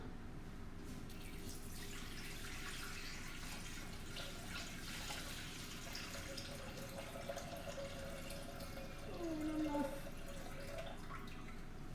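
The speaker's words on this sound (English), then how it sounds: "Next, 50 ounces of water." Water for a spaghetti carbonara pie is poured into a container in a kitchen in a steady, moderately loud stream lasting several seconds. A rising gurgle near the end suggests the container is filling, and no one speaks.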